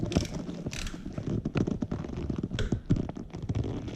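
Torque wrench clicking as it tightens the oil drain bolt on a Triumph Street Triple 675 motorcycle, heard up close as a run of small mechanical clicks and ratcheting scrapes with no talk.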